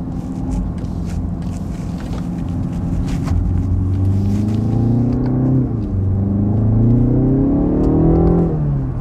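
A BMW 330i G20 engine accelerates, its rumbling drone climbing steadily in pitch through the gears, loud and close, with a brief dip before rising again toward the end.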